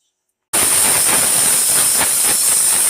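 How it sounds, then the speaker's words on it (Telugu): A pressure cooker on the stove, with yam pieces cooking inside, abruptly lets out a loud, steady hiss of escaping steam with a high whistling edge that runs on without a break and has no voices. "3 విజిల్స్ వచ్చాయండి."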